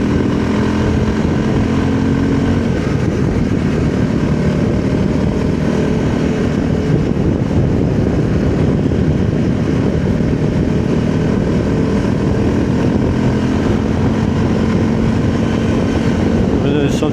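A VOGE 300 Rally motorcycle engine revs to about 5,500 RPM while riding at around 53 mph, a loud, continuous drone mixed with steady wind rush throughout.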